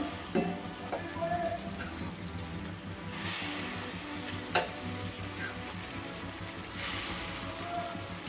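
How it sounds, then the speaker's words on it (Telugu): Small biscuit-shaped pieces of motichoor laddu dough sizzle steadily in hot ghee, a close, continuous frying hiss with occasional stirring clinks and a few sharper taps. "నెయ్యి కాగిందండి చిన్న చిన్న బిస్కెట్లలాగా వేసుకుందాము"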